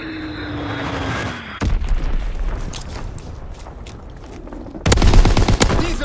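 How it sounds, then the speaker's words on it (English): Enemy artillery in Call of Duty: WWII lands as loud booming blasts, one abrupt impact early and a heavier burst near the end, amid rattling gunfire and battlefield noise. "Incoming enemy artillery. Get to cover."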